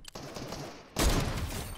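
Gunfire in the video game Fortnite, heard as a loud, dense burst of rapid shots starting suddenly after a quieter stretch of background noise.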